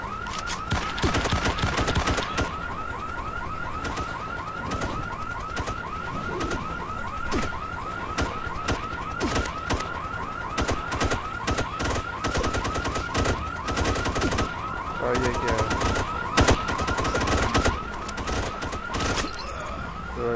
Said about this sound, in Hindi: किसने अलार्म बजा दिया